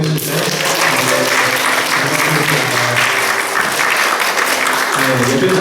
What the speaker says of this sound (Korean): 뒷자리에 우리 청년 두 분 오셨는데 박수 좀 환영해 주실까요?